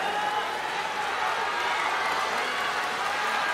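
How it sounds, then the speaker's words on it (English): A judo arena crowd at the World Judo Championships final block keeps up a steady, even roar of cheering and applause, a continuous wash of noise from a large audience heard from a distance. "Crowd loving this"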